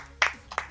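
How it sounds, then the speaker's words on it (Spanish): Three sharp hand claps spaced irregularly over less than a second, close and fairly loud, break a brief quiet during an esports talk stream. "Eso se merece un aplauso."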